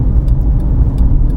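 Car driving on a road during a driving test, a loud steady low engine and road rumble from inside the vehicle with a few faint ticking clicks, no talk.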